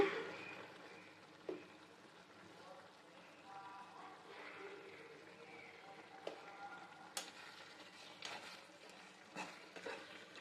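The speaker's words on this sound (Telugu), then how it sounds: "దీన్ని అందరినీ బాగా కలుపుకోవాలి" Gongura chicken curry with garam masala is stirred in a pan, giving a low steady sizzle with soft scrapes and clinks of the spoon against the pan every second or two, fairly quiet and close.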